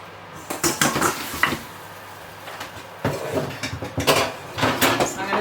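Metal pans and baking trays clatter and scrape at a home oven while cookies, bread and pinwheels are swapped in and out, loud bursts of clanking in two groups separated by a brief lull, no speech.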